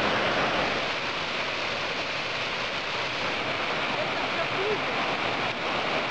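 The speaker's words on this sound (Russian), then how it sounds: "Итак, мы подошли к первому водопаду." Uzun-Syu waterfall near Yalta gives a continuous, broad rushing roar of falling water, steady and fairly close from start to finish.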